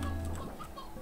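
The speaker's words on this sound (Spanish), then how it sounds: "Pollito pétreo. Este pollito." A small stone chick in a video game gives a few quick, chirpy clucks up close, set against a game background and light talking.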